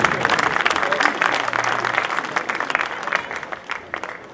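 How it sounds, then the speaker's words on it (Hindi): Audience applause at an Indian mushaira poetry gathering, a dense steady burst of many hands clapping that swells and carries on for several seconds, with a faint hum beneath. "तालियां अपने लिए ही बजाएं।"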